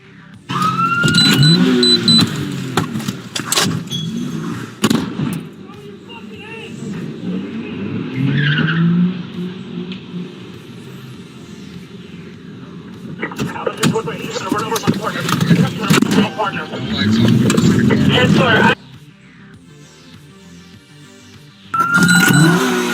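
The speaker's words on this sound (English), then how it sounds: "he rammed a police car and took off with an officer following closely from behind" A car fleeing police after ramming a patrol car, with loud engine and skidding tires in repeated bursts through the stretch, heard under excited talk and radio chatter.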